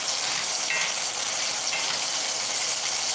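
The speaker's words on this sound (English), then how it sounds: "These are frying up pretty well." Food fries in a pan during the making of an Italian sauce with cherry tomatoes, giving a loud, continuous sizzle and crackle that holds steady with no talking.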